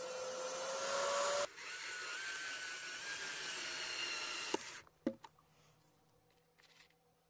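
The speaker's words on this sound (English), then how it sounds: "And cut it up at the table saw." A table saw runs loud and steady while cutting a wooden board for a tool and battery charging station, its whine holding for several seconds before shutting off and trailing into quieter workshop clatter.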